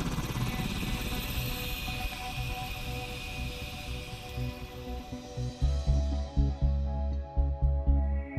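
A Navy helicopter on the flight deck of a DDG-51 destroyer makes a steady loud rotor and turbine roar, joined near the end by heavy rhythmic thumping that grows stronger.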